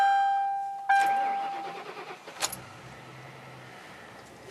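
A Ford Crown Victoria cold-starting: a steady warning chime gives way to a burst of cranking, a sharp catch, then the engine settles into a low, quiet idle.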